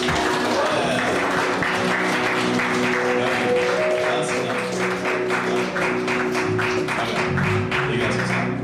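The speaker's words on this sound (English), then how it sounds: "give a round of applause for Jesus Christ" A church youth congregation applauds in a dense, steady wash of clapping that carries on for several seconds, with a sustained musical tone underneath.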